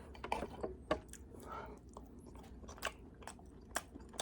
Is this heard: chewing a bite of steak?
yes